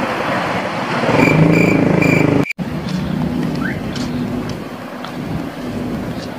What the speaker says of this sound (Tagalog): nakamotor kami ngayon